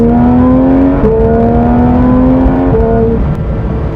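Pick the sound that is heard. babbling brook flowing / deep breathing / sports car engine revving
sports car engine revving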